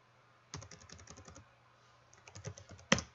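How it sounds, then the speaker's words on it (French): Keys on a computer keyboard are pressed in quick clattering bursts, a rapid run of taps, a pause, then a few more and a final firm keystroke, close and clear. "Je valide par une entrée au clavier."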